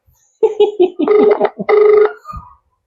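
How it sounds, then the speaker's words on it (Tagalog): An unanswered phone call rings through the handset as a loud, repeating melodic ringback tone in short bursts, heard alone without anyone picking up. "Answer the phone!"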